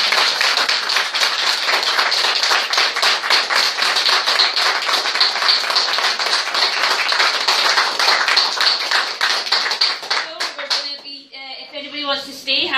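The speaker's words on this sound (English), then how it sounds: "So round of applause, please." An audience at a café gathering in Edinburgh South claps together steadily for about ten seconds, loud and close with a fast, even patter, then tapers off into a few thumps and quiet talk.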